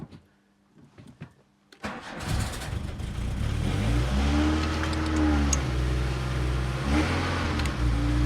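A VW Mk2 Golf with a flashing oil pressure warning light cranks briefly after a few quiet clicks, then catches and runs loud and close, revving up and down in smooth swells.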